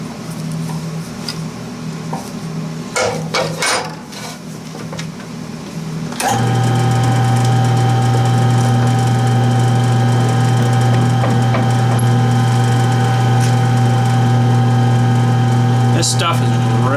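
A soft metal cylinder pin for a ripper tooth being ground down, a loud steady machine whine with strong humming tones that starts abruptly after scattered clanks and runs on continuously, close by.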